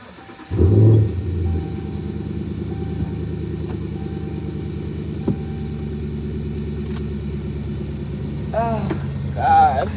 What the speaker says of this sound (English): I'm just going to go ahead and turn the truck on.